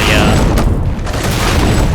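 A Halo 3-style gravity hammer slams the ground in Halo 4, producing a loud, dense, booming blast. It rumbles continuously for about two seconds, with a crackling, debris-like texture throughout.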